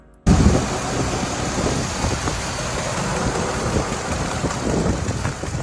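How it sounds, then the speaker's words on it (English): A car engine idles steadily with a faint ticking of lifter noise, a constant even hum recorded close with no voices. "There's a little lifter noise."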